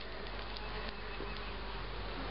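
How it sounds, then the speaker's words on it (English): Honey bees swarm around an opened beehive, giving a dense, steady buzz that fills the scene close by and stays unbroken throughout, with no voices over it. "And as you approach to the bee width, start to see if you feel any little bodies."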